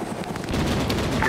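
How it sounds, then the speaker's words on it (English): Burst of rapid autocannon fire in a military video game, dense overlapping booms rolling for about a second with little separation between rounds. "It sounded like some sort of autocannon."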